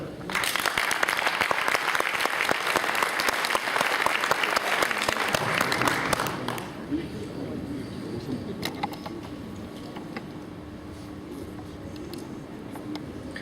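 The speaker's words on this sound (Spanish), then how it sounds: "les damos un gran aplauso" An audience in a lecture hall applauds a lecturer with loud, dense clapping for about six seconds, then the applause cuts away to quieter room noise with a few scattered claps and faint rustling.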